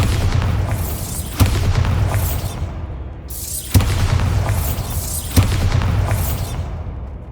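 Bombarda spell blasts in Hogwarts Legacy go off as three separate loud booming explosions, each a sharp hit followed by a rumbling decay, spaced a couple of seconds apart.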